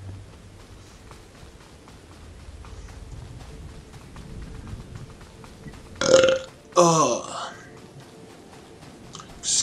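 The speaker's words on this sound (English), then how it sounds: "Excuse the burp." Two loud, close burps in quick succession from a person playing a video game, standing out after a stretch of quiet whispering and light background noise.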